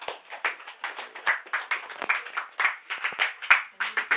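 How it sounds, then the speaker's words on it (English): A small audience at a temple career talk claps for the speaker, a sparse, uneven patter of individual hands with distinct separate claps rather than a full roar, fairly close and moderately loud. "I guess round of applause, please."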